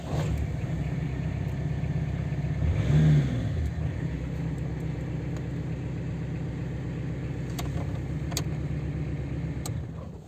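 Peugeot 106 diesel car engine catching and settling into a steady running rumble, with a brief louder surge early on, then continuing evenly and close by for the rest.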